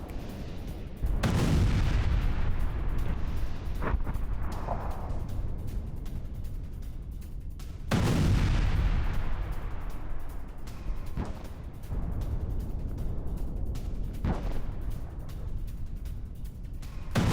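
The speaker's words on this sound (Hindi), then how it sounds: "बुर्किना फासो में सेना की विध्वंसक बमबारी" Army bombardment in Burkina Faso: two heavy booming blasts with long rolling echoes, followed by several sharper distant thuds over a constant rumbling background, no voices.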